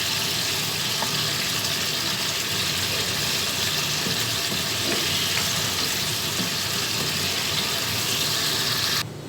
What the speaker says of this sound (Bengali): চিংড়ি মাছটা দিয়ে এবার আমি মাছগুলোকে একটু হালকা উল্টিয়ে দিব।